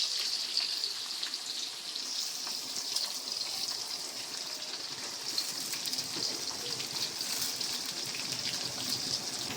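Onions frying in hot oil with garam masala in a home kitchen, a steady, moderately loud hiss and crackle that runs evenly throughout, with no speech.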